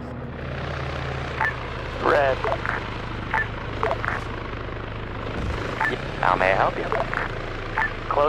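A helicopter in a video game drones steadily in the background, its low rotor thrum continuous beneath frequent overlapping voices talking.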